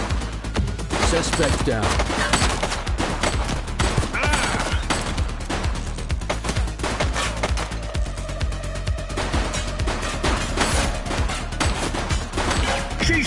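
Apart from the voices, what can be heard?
gunfire in a police video game, The Precinct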